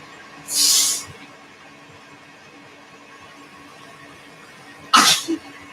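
Two short, sharp sneezes burst out in a quiet room during cooking, the first near the start and the second a few seconds later, loud against a faint steady background hum.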